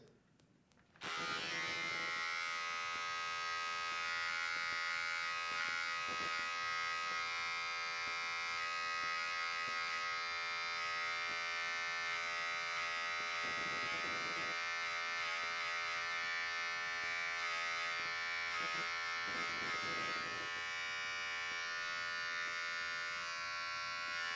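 An electric trimmer runs without a break for over twenty seconds, a high steady buzz that dips in pitch now and then as it cuts goatee facial hair close to the face.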